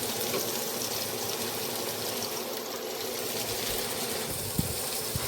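Pork chops saute in a pan for a smothered pork chop dinner, giving a steady, broad, hissing sizzle that carries on evenly for about five seconds, with one brief soft knock near the end.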